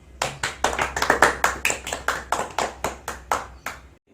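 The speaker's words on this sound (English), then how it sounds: "give applause for all." Rhythmic clapping from a classroom group during a microteaching lesson, steady sharp beats at about three to four per second for roughly four seconds, then stopping abruptly.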